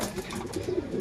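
Racing pigeons coo softly in a low, murmuring ripple at close range, brief and continuous, with a faint rustling background.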